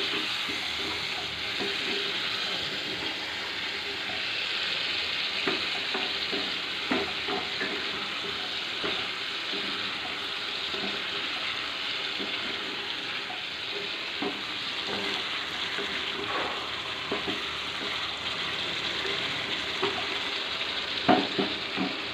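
Spices, eggs and potatoes sauté in a pan for Bengali egg curry, giving a steady, fairly close sizzle with occasional scrapes and stirring clicks throughout.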